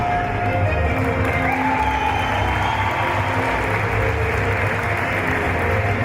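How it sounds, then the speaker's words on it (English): Crowd ovation at a figure skating gala night show, a sustained roar of applause and cheering from a large arena audience, steady and loud for several seconds with no talk on top. "You hear the ovation from the crowd"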